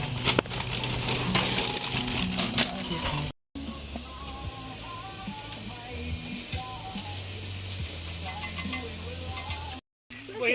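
Pork sizzles loudly on a hot grill pan at a campsite by Srinagarind Dam, a constant crackling hiss up close, broken by two brief moments of silence.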